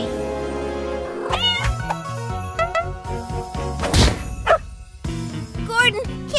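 A cat meows several times beside a Christmas tree, rising, wavering cries that stand out over background music, with a few dull thuds and voices talking.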